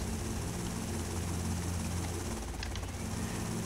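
A helicopter in the video game GTA Vice City Stories drones steadily with a dense, constant rotor and engine roar, unbroken throughout and fairly loud.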